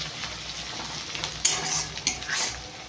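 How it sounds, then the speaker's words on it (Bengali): Onions sizzle steadily in a hot pan while a utensil stirs them, giving a few sharper scrapes and clinks against the metal. Close and continuous, with no talking. "পেঁয়াজটা একটু ভেজে নেব"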